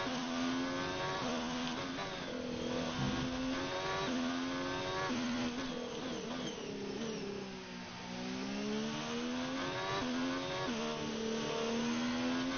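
F1 race car engine screaming as it accelerates through gear changes on the Australia circuit in F1 2019, a continuous high-pitched whine rising and dropping steadily with no talking.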